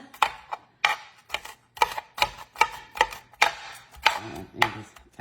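Knife chopping food on a cutting board during home family dinner prep, a steady series of sharp, close taps about one to two per second, loud and clear with no talk.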